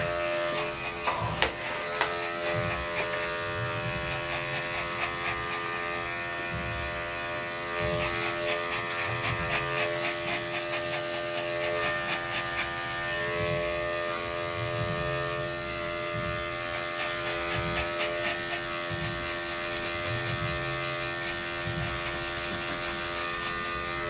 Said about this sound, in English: If we can get this off with a clipper,